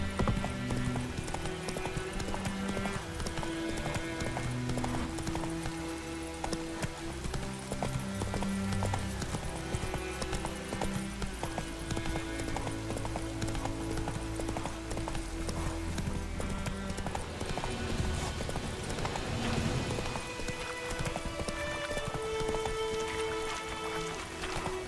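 Horse galloping in The Witcher 3: Wild Hunt video game, rapid continuous hoofbeats pounding loud and close over a music and ambience bed, with a brief whinny-like burst near the end.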